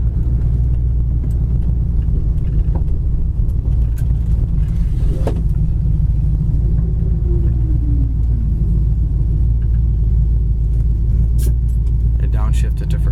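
A 1974 Plymouth Duster drives along with a loud, steady low engine rumble and road drone throughout, while a voice talks over it at times.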